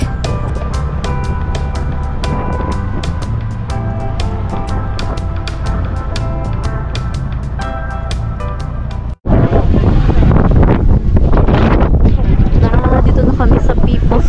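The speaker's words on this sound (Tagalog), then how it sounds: "Lakas ng hangin." Strong wind buffets the microphone with loud roaring gusts on the way to People's Park in Tagaytay, and the rush grows harsher and louder partway through.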